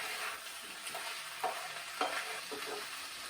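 Onions, ginger, cumin and mustard seeds sizzling in a pan for beetroot raita, a soft continuous frying hiss with a few light taps and scrapes as the mixture is stirred.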